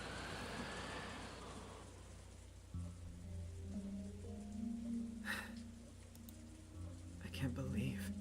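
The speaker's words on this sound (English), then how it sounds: "listening only to the wind and the rain" Steady rain with wind fills the scene as an ambient effect in a visual novel, a continuous hiss running throughout beneath sustained low tones and a few brief sharper sounds.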